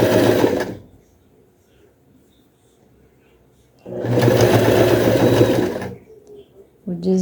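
A sewing machine stitches a plush pencil case in two loud, close bursts of rapid whirring, separated by a quiet pause, then a brief start at the end.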